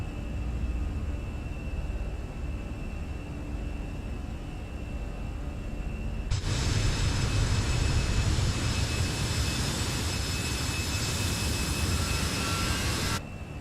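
Airbus A320 jet engines in Microsoft Flight Simulator roar steadily after takeoff, a constant cockpit hum that suddenly jumps to a louder, broader thrust roar midway and holds until near the end.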